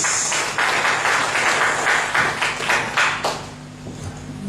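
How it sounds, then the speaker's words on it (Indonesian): Audience applause for Joyce at a church seminar in Timor-Leste: a steady wash of many hands clapping at moderate loudness, fading slightly toward the end with a low hum beneath. "Kita tepuk tangan buat kakak Joyce."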